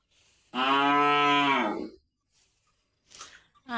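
A farm cow moos once in a long, loud, droning call close by in a village yard after rain, followed by silence and a brief voice at the end.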